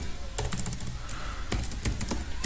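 Clicky, uneven bursts of keystrokes on a computer keyboard, close and fairly quiet, in two short runs separated by a pause, with no talking.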